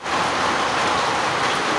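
Steady rain falls while people shelter at a church, a dense even hiss of rainfall on surfaces that is continuous and fairly loud throughout.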